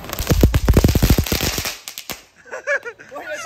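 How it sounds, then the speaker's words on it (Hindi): A rapid string of sharp chatar patar firecracker pops bursts close by at Diwali, then stops; afterward a few faint voices and light sounds follow. "भाई अभी मस्त चटर पटर ले आए हैं"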